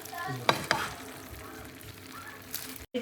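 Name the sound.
stirring moose meat with ginger and onion in a pan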